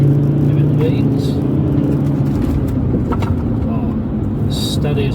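A Volvo XC90 driven hard, its engine surging under acceleration and tyres and road roaring, with a voice talking over the loud, steady vehicle noise.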